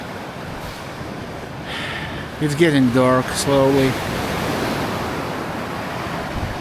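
Sea waves washing on the shore at dusk after a snowstorm, a continuous broad roar with wind buffeting the microphone, and someone speaking briefly over it midway.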